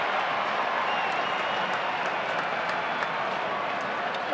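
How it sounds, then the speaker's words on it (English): A crowd cheers at Globe Life Park during a Rangers–Astros baseball game after a single, a steady, dense wash of noise from a large stadium audience that holds at a constant level throughout. "A bit of sarcasm in that cheer at Globe Life Park"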